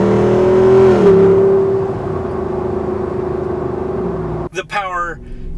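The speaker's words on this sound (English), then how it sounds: "That deep V8 rumble that makes people at stoplights turn and grin" A Jeep Wrangler 392 V8 gives a deep, steady engine rumble up close, rising briefly at the start and then settling into a low idle-like drone, with a short burst of talk near the end.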